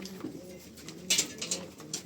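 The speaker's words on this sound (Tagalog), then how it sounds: "So ang pinagpares ko na puti ay mga racing pigeons." White racing pigeons coo softly in a loft, with low murmuring calls under faint background noise and a few brighter chirps.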